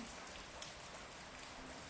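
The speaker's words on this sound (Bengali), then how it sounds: "বৃষ্টি বৃষ্টি বৃষ্টি, অনেক অনেক বৃষ্টি" Heavy rain pours steadily outdoors, a faint continuous hiss and patter of drops with no voices.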